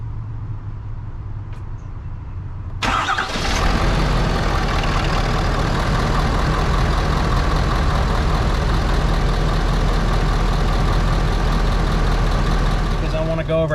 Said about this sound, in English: So I'm gonna get this done, and we're gonna fire it up.